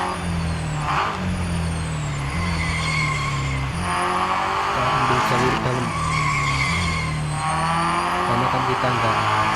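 Race car in Real Racing 3 braking hard and skidding, a continuous loud engine roar with repeated tire squeals layered over it, close up.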